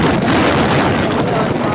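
Loud, constant wind buffeting the microphone, a dense rushing roar with no pauses.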